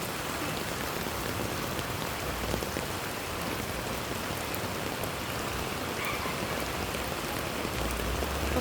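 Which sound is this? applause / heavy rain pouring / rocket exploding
heavy rain pouring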